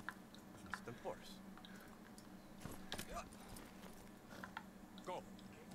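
Hooves of a horse conjured from a unicorn clip-clop in Far Cry 6, soft irregular steps at low volume under a steady game ambience with quiet talk over it.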